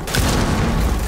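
A frag grenade explodes in a competitive shooter match, one loud, close, heavy blast that fills the whole moment with a dense rumbling roar.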